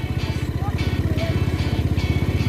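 An open-top vehicle rides along the road, its small engine putting out a fast, even, pulsing chug that stays close and steady, with wind around it.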